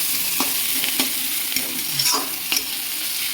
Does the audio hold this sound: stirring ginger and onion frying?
yes